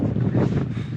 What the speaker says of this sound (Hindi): यहाँ ऐसी बर्फीली हवा चल रही है